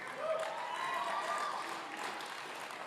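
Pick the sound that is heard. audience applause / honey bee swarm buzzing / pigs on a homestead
audience applause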